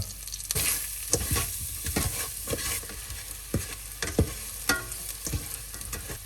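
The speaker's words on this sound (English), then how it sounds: "And I will leave it to sauté for a few minutes." Shallots with garlic, salt, pepper and sugar sizzle while sautéing in a slow cooker, a steady close frying hiss broken by repeated scraping stirs, with no talk.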